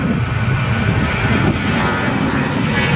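An airliner on a night landing at Hatay Airport, during which a landing-gear fault occurred, gives a loud, steady engine roar that holds throughout and cuts off abruptly at the end.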